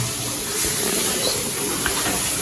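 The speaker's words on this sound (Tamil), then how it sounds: "நல்ல வடிவம் வந்து கொதிக்குது இங்கே பாருங்க" A pot of prawn curry bubbles and hisses at a steady boil, close by, with soft popping and a continuous steamy rush throughout.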